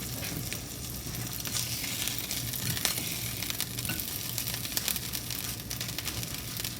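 Swedish meatballs sizzle steadily in a hot pan, a dense continuous crackle with scattered sharper pops throughout, close and fairly loud with no voices.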